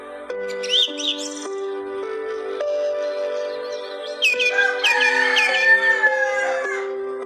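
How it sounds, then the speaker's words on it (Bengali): A rooster crows partway through, a wavering drawn-out call over a steady droning tone, with a few faint chirps of 3-day-old chicks around it. "যে মোরগটার ডাক শুনলেন দর্শকবন্ধু"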